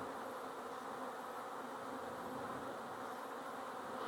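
A dense, steady hum of many bees buzzing together, constant and fairly faint, with no voices.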